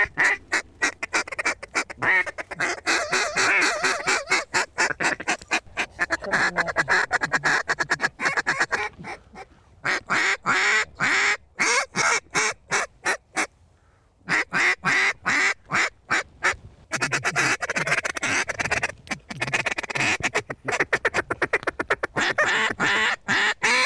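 Ducks on a waterfowl hunt in Wisconsin give repeated loud quacking calls in dense bursts, with brief pauses, close by throughout.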